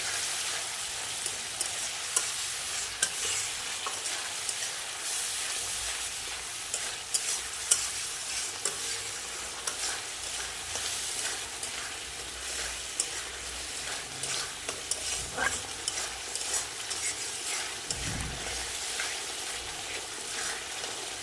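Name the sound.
spice paste frying in a pan with a little water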